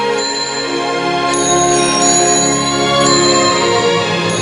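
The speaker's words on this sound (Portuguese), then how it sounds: "O som dos sininhos dava a velocidade da bola." Small bells set along an inclined plane ring as brass balls roll down it, bright metallic tones chiming one after another and overlapping in a sustained, loud ringing with no voices.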